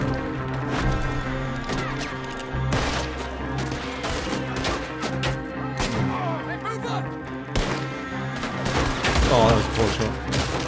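Gunfire in Red Dead Redemption 2, a dense run of sharp loud shots and impacts over a steady game music bed, with someone talking over part of it.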